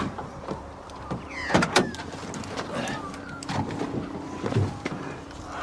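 A car door opens and a person climbs out during a roadside police stop, with clunks and rustling, a sharp burst of door and latch noise early on, and traffic and room tone behind.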